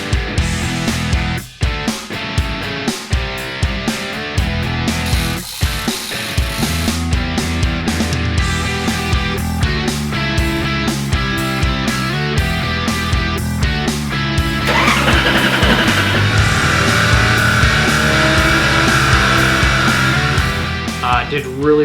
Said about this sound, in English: dynoing the Amsoil Mustang engine